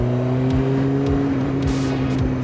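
A Kawasaki ZX9R motorcycle engine hums steadily at a constant speed while riding, with loud continuous drone and wind rush close to the mic.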